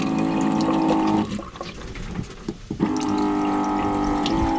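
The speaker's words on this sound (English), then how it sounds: "And the water should be coming down," A faucet runs water into a small camper kitchenette sink, a steady close rush that briefly drops away to a few splashes and gurgles before surging back at full flow, no talking.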